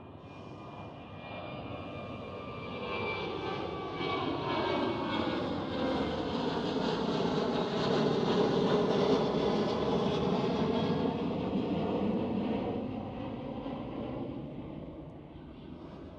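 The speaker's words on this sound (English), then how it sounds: "next one up is Transavia 737" Transavia Boeing 737 passing at Amsterdam Schiphol, its engine roar swelling to a peak and fading again with a sweeping whine, loud and unbroken, no talk over it.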